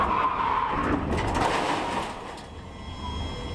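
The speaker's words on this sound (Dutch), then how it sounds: "waardoor die auto begon te glijden" A Porsche Cup race car locks a wheel under braking into a chicane, giving a sustained tire skid with engine roar that fades after about two seconds into distant track noise.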